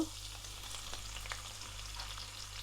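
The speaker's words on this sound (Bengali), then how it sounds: "এখন পেঁয়াজটা দিয়ে দিব" Onion going into hot oil already frying with four or five bay leaves, cardamom and cinnamon for a duck curry: a faint, steady sizzle with light stirring, no talk.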